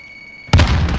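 A frag grenade detonates in a battle royale shooter game, a single loud sudden blast with a rumbling tail, after a quiet moment with a faint steady tone.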